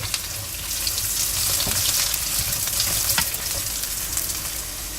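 Potatoes sizzling in a hot pan for sabudana khichdi, a steady close frying hiss broken by a few scraping stirs, with no one speaking.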